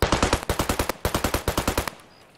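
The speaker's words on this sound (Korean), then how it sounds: "올라가자마자 총소리가 났어" Rapid automatic gunfire from a Scav in an Escape from Tarkov-style shooter, two loud close bursts of evenly spaced shots that stop abruptly, leaving a short fading tail.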